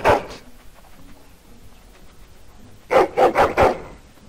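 A Mabari war hound in Dragon Age: Origins barks once, then after a pause lets out a quick run of four loud, close barks.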